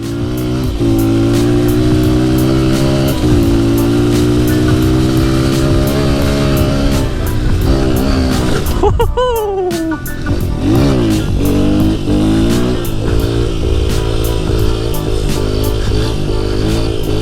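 A Honda XR100 dirt bike being ridden, a loud close engine droning steadily and rising and falling in pitch through gear changes, with a brief burst of revving partway through.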